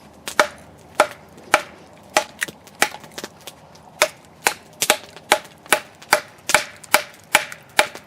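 An Esee 6 knife chopping into an old, weathered, very hard piece of Osage wood, giving about eighteen sharp, loud, close strikes in a steady rhythm, with no talk.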